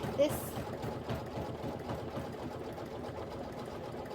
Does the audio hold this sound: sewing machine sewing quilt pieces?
yes